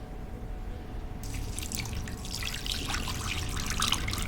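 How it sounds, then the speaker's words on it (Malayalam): Water pours into a cooking pan for Maggi noodles as part of an egg Maggi omelette, a close trickling splash that starts after a second and grows denser and brighter over a low steady background. "ഇനി നമുക്ക് ഇത് ഒന്ന് കുക്കായി വരാൻ ആവശ്യമുള്ള വെള്ളവും കൂടെ ഒഴിച്ചു കൊടുക്കാം"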